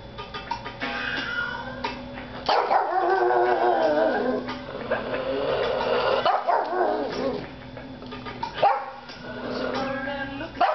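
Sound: pug howling at a song

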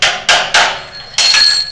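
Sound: hammer knocking a drift key

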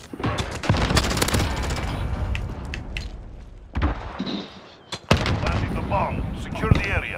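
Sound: Uzi submachine gun firing in a video game

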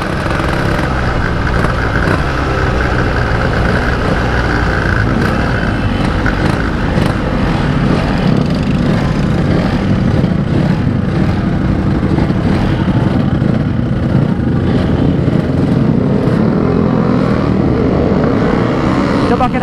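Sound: Yamaha RX-King motorcycle engine revving

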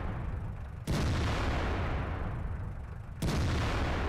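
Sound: tank shot bouncing off gun in video game World of Tanks

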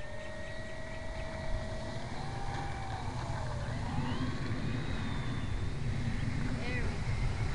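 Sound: FMS F4U Corsair RC model plane propeller in flight

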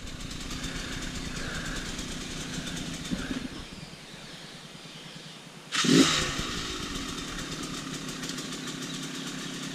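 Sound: trail motorcycle engine revving to hop over log

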